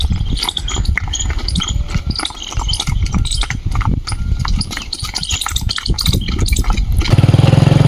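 Mares pulling a cart clip-clop at a steady trot, with loud, close, rhythmic hoofbeats over a rumbling background, ending in a low engine-like drone.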